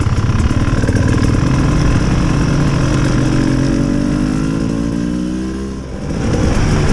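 A KTM trail motorbike engine runs steadily and close by, first at a rough idle and then with rising and falling revs, loud and continuous throughout with no talking.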